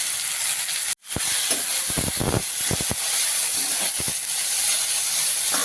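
Taro leaf stalks with a pinch of turmeric sauté in a hot pan, giving a steady close sizzle and hiss broken by a brief cut in sound and a few stirring clatters.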